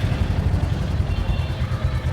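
Royal Enfield Meteor 350 motorcycle engine running with a steady low throb and a fast, even thumping pulse, close and fairly loud, with no talk over it.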